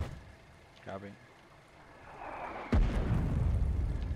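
An artillery gun in the war video game Foxhole fires with a sudden sharp boom near the end, followed by a rolling rumble, after a quieter stretch with a brief voice.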